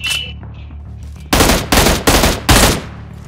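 A BGMI battle in Dragon Ball mode, with a small rapid-fire gun shooting: four loud, close bursts of automatic fire spaced about half a second apart, over a low, steady game-engine hum.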